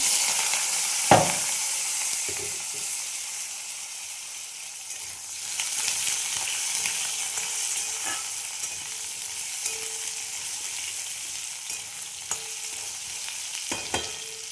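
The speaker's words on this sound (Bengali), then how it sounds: "এবার আমি আলু ভেজে নেব।" Potatoes fry in hot oil seasoned with cumin and bay leaf, a soft steady sizzle with a few sharp clicks of a spatula scattered throughout.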